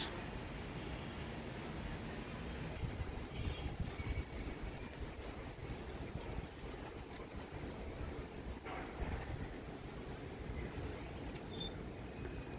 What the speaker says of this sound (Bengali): আমি ছাদে নিরিবিলি বসে আছি আর কি সুন্দর যে বাতাস হচ্ছে